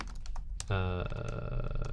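Rapid clicking keystrokes on a computer keyboard, some quiet taps at first and then a denser run of typing, heard close beneath a steady tonal hum.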